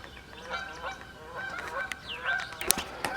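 Geese honk repeatedly overhead at moderate distance, a string of calls rising toward a louder burst near the end, outdoors with faint background noise.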